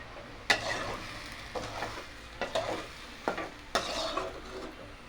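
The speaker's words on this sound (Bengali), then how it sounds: "মাছটা ভাজা হয়ে এসছে, এবার তুলে নেব।" Tengra fish fry in hot oil with a steady soft sizzle, punctuated by several scraping stirs of a utensil in the pan, with no talking.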